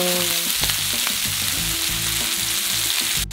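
Pork belly from Korean Handon pork sizzles loudly and steadily in a pan, with a dense constant crackle and occasional low clatters from turning the meat, close and alone without talk.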